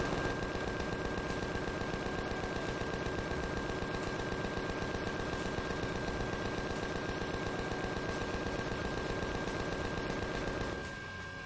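Sustained automatic gunfire in the video game Empyrion on hardcore experimental mode, a relentless rapid mechanical rattle with a steady tonal hum underneath, continuing for about eleven seconds before cutting off abruptly, no talking.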